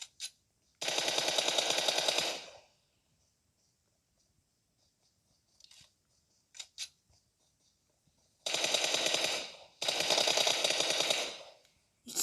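Automatic gunfire in the mobile battle royale game PUBG Mobile on the Livik map: a close, sustained burst, a few scattered single shots, then two more long rattling bursts separated by near-silence.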